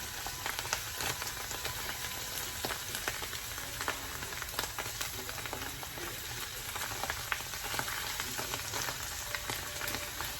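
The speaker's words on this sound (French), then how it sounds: "On va bien les mijoter, on va bien faire cuire comme ça." Vegetables for a vegetable pizza, with mushrooms among them, simmer and fry in a pan, giving a steady, close sizzle with scattered crackles and pops that runs unbroken throughout.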